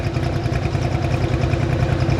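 A 4x4 pulling truck's engine, just restarted, idles with a steady, rumbling low throb at a distinct pulse throughout, with no one speaking over it.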